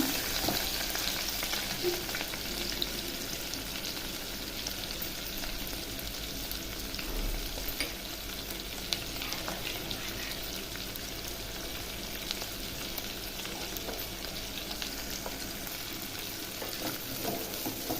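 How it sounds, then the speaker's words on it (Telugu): Shallots, green chilies and onion pieces fry in hot oil, giving a steady, dense sizzle that holds at an even level throughout with no voices. "4 చిన్నుల్లిపాయలు, తరిగి పెట్టుకున్న పచ్చిమిర్చి, ఉల్లిపాయ ముక్కలు ఇవి బాగా ఎర్రగా వేగనిద్దాం"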